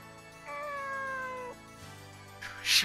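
A cat meows in the video game Nights of Azure: one drawn-out, gently falling meow of about a second. It is clear and fairly close over soft background music, and a brighter burst follows near the end.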